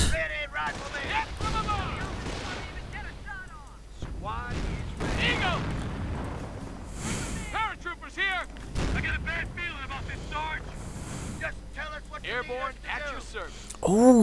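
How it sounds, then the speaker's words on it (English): Gunfire and explosions from a battle in a strategy video game, heard as scattered shots and booms mixed with chirpy unit voice lines and effects, while a commentator talks over much of it. "Troops being shot at."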